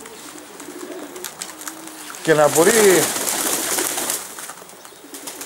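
Pigeons in a Greek loft in Karditsa coo in a short, close burst of throaty, wavering calls. Someone speaks Greek just before the cooing and over it.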